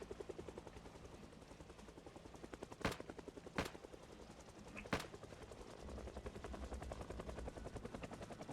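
A helicopter circling in the Project Zomboid game gives a steady, rough rotor drone, with three sharp cracks, like gunshots, cutting through the noise.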